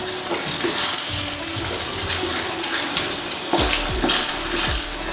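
Vegetarian nasi lemak ingredients are stirred in a hot pan after salt is added, a loud continuous sizzle and hiss with scraping spoon strokes throughout.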